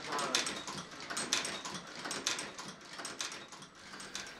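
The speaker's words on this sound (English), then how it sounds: "It's cutting a channel in that leather," A leather boot stitching machine cutting a channel in leather and stitching at once gives a fast, steady mechanical rattle and clatter, close and continuous without pause.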